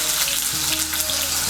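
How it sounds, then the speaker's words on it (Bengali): Cut potato pieces frying in hot mustard oil in a wok, giving a loud, dense, continuous sizzle close by with no talking over it. "তেলটা গরম হয়ে গিয়েছে, এর মধ্যে আমি আলুগুলো ভেজে নিচ্ছি।"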